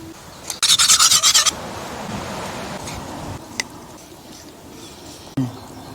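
A knife scores slits into raw chicken with a brief scraping burst, followed by quieter rubbing, a small tap and a faint thud near the end.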